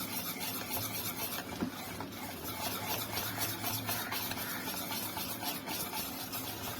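Besan batter for dhokla, with a little water added, is mixed steadily in a bowl, a continuous soft scraping and swishing at an even pace with no talking.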